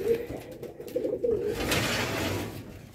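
Racing pigeons coo close by in soft, rhythmic throaty bursts at a training site in Muñoz, Nueva Ecija, over a low background hum, with no clear talk.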